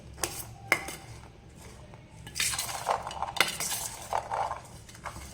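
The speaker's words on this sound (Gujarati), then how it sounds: "હવે આ બધી જ વસ્તુને આપણે સારી રીતે મિક્સ કરી લેવાનું છે." A spoon mixes kala chana chaat with lemon juice in a bowl, with clinks and scrapes against the dish, a few sharp taps, then a busier run of stirring, fairly quiet and close.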